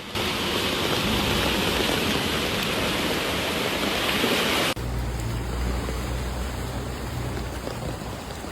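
Heavy rain hisses loud and dense during a Shanghai thunderstorm, a constant downpour that abruptly switches midway to a duller, lower-pitched rush.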